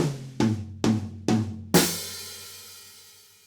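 Four quick drum hits in an even triplet run, played slowly and close, land before a final crash-like accent that rings out and decays alone.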